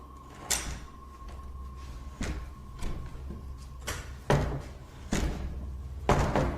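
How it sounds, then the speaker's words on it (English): A door is pushed open with several sharp knocks and bangs at irregular intervals over a steady low hum, some thuds louder and closer than others, with no talking. "They push this door open, but are too scared to enter."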